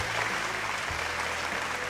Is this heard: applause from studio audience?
yes